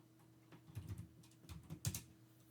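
Typing on a computer keyboard into a terminal, two short bursts of quick, soft key clicks close by in a quiet room, with no talk.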